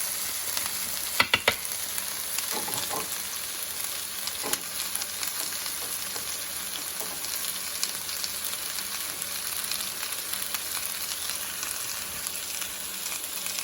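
Pork chorizo and potatoes frying in a pan, a low steady crackling sizzle with a few sharp clicks and scrapes of a utensil spreading the pieces out near the start.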